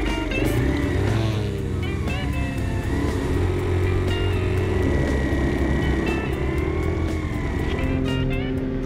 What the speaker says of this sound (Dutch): ik heb net een rondje gereden op de brommer, maar het was gewoon niet te doen. Het regende te hard.